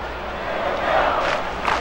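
Stadium crowd in the MLB 2K5 baseball video game, Astros against Mets, a steady roar of cheering that swells slightly over a couple of seconds with no talk over it.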